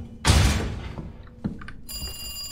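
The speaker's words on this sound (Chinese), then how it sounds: "哎呦，电话响了。" Telephone ringing inside a police station in the Resident Evil 2 Remake, a loud burst followed by a quieter knock, then a high, steady electronic ring tone starting near the end.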